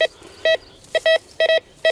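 A metal detector gives a series of sharp, high electronic beeps, some single and some doubled, in an uneven rhythm with quiet gaps between.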